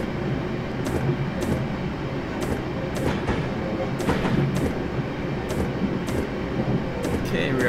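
A train in Train Simulator 2018 rolls along rails through the Trent Valley in winter, with a steady rumble and regular clickety-clack wheel beats over rail joints, continuous and close.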